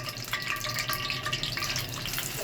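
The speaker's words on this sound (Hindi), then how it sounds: "फ्राई करेंगे प्याज।" A quarter kilo of sliced onions frying in oil, a dense, steady sizzle and crackle heard up close, with no one speaking.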